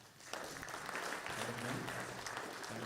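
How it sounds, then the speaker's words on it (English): A conference audience at a water loss management event applauds with even, continuous clapping that starts abruptly and stays steady at moderate distance. "A round of applause to"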